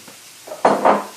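Black forest ham drops into a skillet with tender onions and peppers, giving a short clatter and two quick bursts of sizzle that fade fast.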